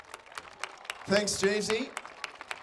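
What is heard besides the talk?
crowd applause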